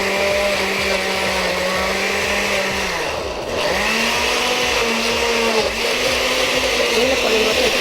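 A blender grinds ingredients for a salsa in a kitchen, its loud motor whining steadily and dipping briefly in pitch partway through before picking up again.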